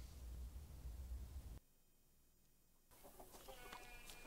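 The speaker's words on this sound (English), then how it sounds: "Cute little chickens." Chickens cluck in a scene from the horror film The Witch, faint soft clucks heard after a noisy passage and a brief near-silent gap, with a brief clucking burst toward the end.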